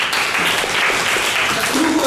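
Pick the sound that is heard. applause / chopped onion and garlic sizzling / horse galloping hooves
applause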